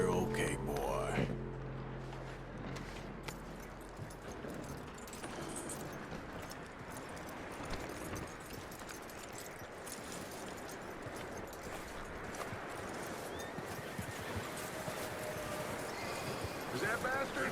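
A horse in the video game Red Dead Redemption 2 moves with steady clip-clopping hooves and occasional snorts, under a faint game soundscape.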